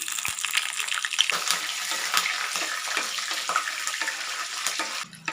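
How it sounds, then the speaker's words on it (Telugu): Green chilies sizzling in hot oil with fried peanuts and cashews for mango pulihora, a steady dense crackling fry with a brief louder hiss at the end, no talk over it. "ఇప్పుడండి వేగిపోతున్నాయి కదా."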